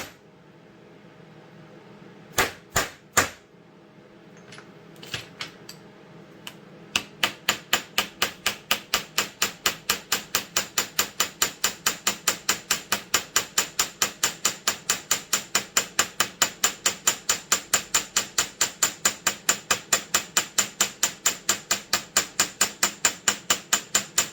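A hammer strikes leather in a long, steady run of sharp, evenly spaced blows. A few scattered hits come first, then the rapid rhythm settles in and continues near and loud without speech.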